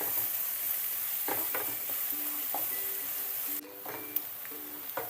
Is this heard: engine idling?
no